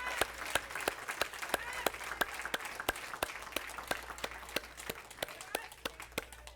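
A church congregation at a Siervos de Dios service in Northridge, California claps in a steady, evenly spaced rhythm. The sharp individual claps repeat throughout at moderate loudness over a low room hum.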